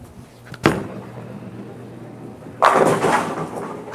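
An 8 lb house bowling ball at a pro bowling alley gives a sharp thud on release, then rolls quietly before a loud, crashing pin strike that rattles on for over a second, leaving the 5 pin standing.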